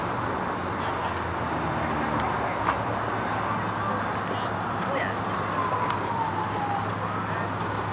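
At an outdoor car show in Arizona, police sirens wail faintly in the distance beneath crowd noise and people talking nearby.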